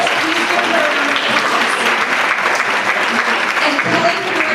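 Loud audience applause greets a panelist taking the stage at a panel event, thick continuous clapping from a large crowd with some cheering voices mixed in.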